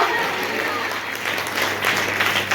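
A congregation at a church women's conference claps hands in worship, a dense continuous wash of applause that holds steady throughout, with faint voices mixed in.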